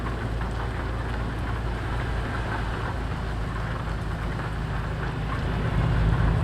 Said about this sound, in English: it's starting to get a little bit rainy now